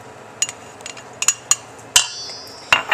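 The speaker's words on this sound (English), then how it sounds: "We're going to toss in our tomatoes." Diced tomatoes tossed into a mixing bowl for guacamole make a few sharp, close clinks and taps, scattered singly with short pauses and one fuller knock near the end.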